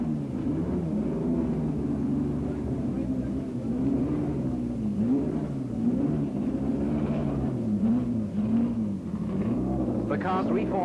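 Engine drone from racing cars lapping a wet circuit at a 1970 BRSCC meeting, a steady wavering roar with pitch swells as cars pass, with speech heard under it.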